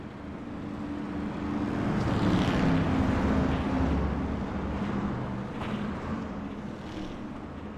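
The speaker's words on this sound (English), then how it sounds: "I don't know how that engine's still running on David Girling's car" Dirt-track race car engines in an iRacing dirt series race at USA International Speedway, a steady broad droning roar of several cars running together, fairly loud and continuous with slight swells, no talk.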